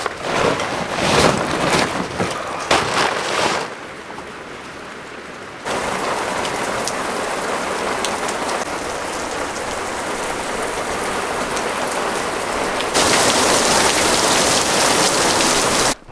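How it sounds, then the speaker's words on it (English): Heavy rain from a thunderstorm on the Pacific Crest Trail pours down in a loud, dense hiss, shifting in intensity as it drums on nearby surfaces, growing heavier toward the end. "That was a surprising amount of rain."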